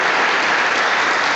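Dense, steady applause from a church congregation fills the space, a continuous wash of many hands clapping with no talk over it.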